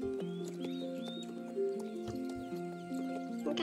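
A Finnhorse whinnies with rising, tonal calls over a steady sequence of hoof clops, close and moderately loud, with no talking.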